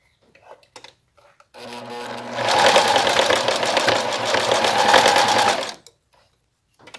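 Sewing machine runs a continuous stitching burst over a zipper rail while sewing a fabric pencil case lining, loud and close with rapid mechanical chatter, framed by small clicks of fabric handling.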